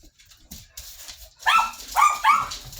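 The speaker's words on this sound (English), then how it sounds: "Oh, these dogs." Dogs barking in a few loud, close bursts in the second half of the clip, preceded by quieter yips and whimpers, with no talk over them.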